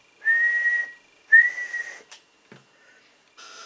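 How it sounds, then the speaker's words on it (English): A person whistles two sustained rising tones into the microphone of a Superstar 360 FM / Cobra 148 GTL DX MK2 CB radio during a power test, each about a second long, followed by a few short clicks. "Let's give it a little bit of a whistle."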